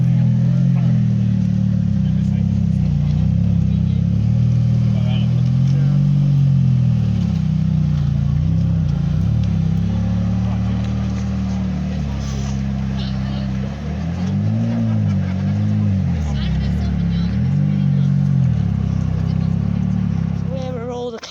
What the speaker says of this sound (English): Here comes a Ferrari. That's a Ferrari F430.